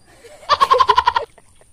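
A water buffalo (carabao) on a farm lets out a loud, pulsing call of about eight rapid bleat-like pulses lasting under a second, close by and alone.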